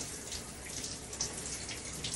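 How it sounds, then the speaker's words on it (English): A cold shower running, a steady close hiss of falling water spraying without pause, with no voices. "I'm still in a cold shower."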